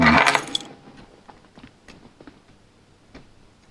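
Two keys from a Hokey Cokey puzzle lock jangle in a short bright metallic burst at the start, followed by fainter small clicks and taps that fade out.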